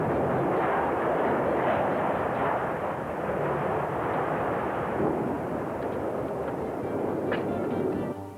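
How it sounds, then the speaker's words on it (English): Controlled explosives bring down power station columns at a Yallourn demolition site, heard as a long, rumbling, roaring wash of blast noise that stays heavy throughout, with a few faint crackles near the end. "The southern columns were then removed with the use of controlled explosives."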